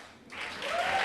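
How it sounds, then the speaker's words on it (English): After a brief quiet moment, applause swells up from an AA meeting audience, building into steady clapping. "Give Noah a big round of applause."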